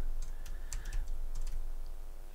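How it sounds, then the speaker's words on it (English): Keys tapped on a computer keyboard in a short, close run of irregular clicks, with no voice over it. "just typing Stonehenge in"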